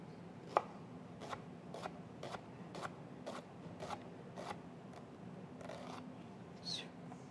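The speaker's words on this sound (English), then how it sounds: "you see me cutting this shallot" A knife chops a shallot finely on a cutting board in a kitchen, about ten crisp, evenly spaced knocks, close and moderately loud, ending in a brief scrape.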